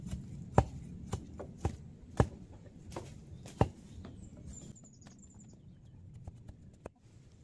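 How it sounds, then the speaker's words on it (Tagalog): Digging up a wild jicama tuber from soil outdoors: a series of sharp, separate thuds and scrapes, several loud strikes at irregular intervals close by, over a low rustling background. "Kasi hinuhukay ko yung laman."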